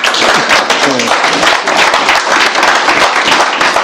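A church congregation bursts into loud, sustained applause with dense clapping and some cheering voices throughout, close and filling the room.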